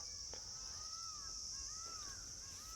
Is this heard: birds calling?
yes